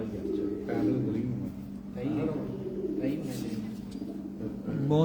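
Pigeons coo softly in a loft or yard, low rolling calls repeating beneath someone speaking.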